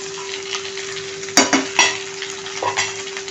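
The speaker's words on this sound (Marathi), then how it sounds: "भेंडी बघा छान अशी परतलेली आहे तेलावर" Okra fries in oil for stuffed bhindi while ground masala is stirred in. A soft, steady sizzle runs under a few sharp spoon scrapes and clacks against the pan, with a steady hum beneath.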